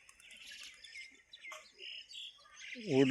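Birds chirp and call at the Shembal Pimpri bus stand in Maharashtra, a scatter of faint tweets through the first seconds, then a louder burst of calls near the end.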